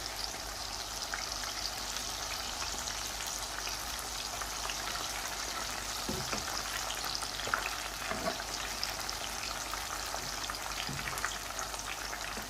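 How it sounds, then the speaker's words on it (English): Potato fritters fry in hot oil, a steady close sizzle and crackle throughout with occasional soft knocks as pieces are turned. "we're just going to gently turn them over, so you can just cook the other side as well"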